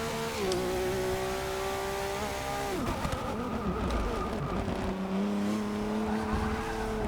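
A Nissan GT-R LM Nismo front-wheel-drive prototype race car in Forza Motorsport 6 drones steadily at high revs, its engine pitch dropping on a shift and then climbing again, with tire noise beneath, loud and continuous.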